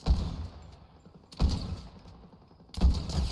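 Gunfire from the Fortnite video game, three separate loud bursts about 1.4 seconds apart, each with a sharp attack that tails off into a fading rumble.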